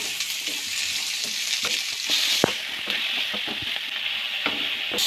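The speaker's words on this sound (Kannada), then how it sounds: "ಕ್ಯಾಪ್ಸಿಕಮ್ ಹಾಕಿ ಒಂದು 3 ನಿಮಿಷ ನೀಟಾಗಿ ಸ್ವಲ್ಪ ಹಸಿ ಸ್ಮೆಲ್ ಹೋಗೋವರೆಗೂ ಹುರ್ಕೊಳ್ಳಿ" Capsicum frying in a pan for curry, a steady bright sizzle with intermittent sharp clicks and scrapes of stirring, close and alone without talk.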